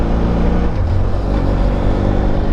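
A BMW F800GSA motorcycle engine pulling away through the gears on a road, a loud, close, steady drone with a grabby clutch take-up and constant wind rumble.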